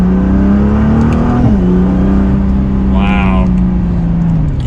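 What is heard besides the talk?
Nissan GT-R 50th Anniversary accelerating at half throttle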